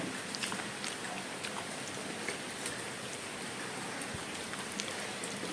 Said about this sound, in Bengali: বৃষ্টি নেমে গেছে।